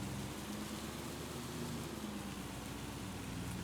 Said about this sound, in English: And yeah, it is raining.